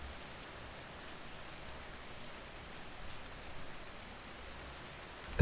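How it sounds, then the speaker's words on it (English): Steady rain falls as a soft, even hiss across the whole stretch, backing a horror narration, with a faint patter of drops and no voices. "The rain started just as Mom clipped her earrings on."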